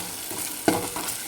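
A dal tempering of turmeric powder and green chilies in hot oil fries with a steady soft sizzle and one sharp crackling pop partway through, short and close, with no talking.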